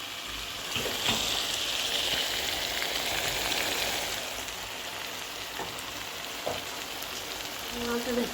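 Brinjal curry frying in a pan hisses steadily as some water is poured in, with a loud, rain-like sizzle that eases and then continues under a few utensil knocks and brief faint talk.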